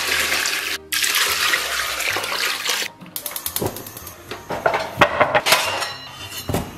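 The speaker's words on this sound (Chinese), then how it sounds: "然后给里边加水" Water pours from a tap into a big pot holding beef trotters in a rushing stream, breaks off briefly, then comes back as splashier, uneven gushes and trickles.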